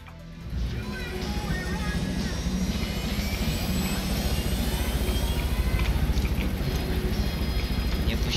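A helicopter flies in the Far Cry: New Dawn video game, a loud, steady engine and rotor drone that swells in early and holds continuously throughout.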